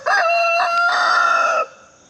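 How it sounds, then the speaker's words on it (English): A Polish chicken on a Maryland family farm gives a loud, close, drawn-out crowing call in several connected segments lasting about a second and a half, then fades. "This is a Polish chicken"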